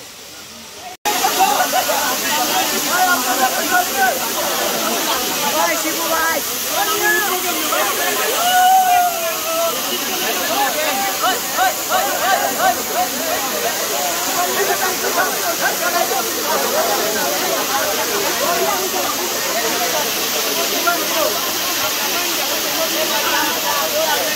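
A waterfall, Risang waterfall in Khagrachari, roars in a loud, continuous rushing hiss throughout, with faint voices mixed in.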